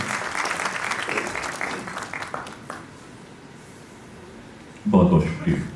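A wash of clapping from the audience at a university regional convocation ceremony in Srinagar, steady for about three seconds and then fading, before a louder burst of nearby sound at the end.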